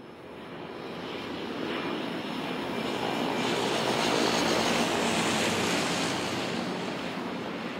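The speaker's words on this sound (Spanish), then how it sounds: "Ese avión va al aeropuerto. Pensaba que había pasado y me iba a golpear en ese momento. Un C-130 vuela bien." A C-130 turboprop airplane passes overhead as a broad, loud roar that swells to a peak midway and slowly fades, with a rushing, wind-like texture and no speech.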